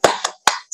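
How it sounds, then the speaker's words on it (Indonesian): Hands clap out a short class cheer, 'tepuk semangat': three sharp, close claps in quick uneven rhythm, with the start of a fourth cut off at the end. "tepuk semangat seperti ini ya"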